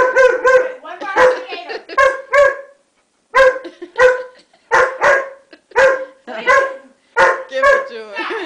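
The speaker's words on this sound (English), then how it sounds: "One bark for left, one bark for the alligator, two barks for the shark." A Weimaraner barks in a string of short, sharp, close barks, several single and paired, with brief pauses between them and a person speaking in between.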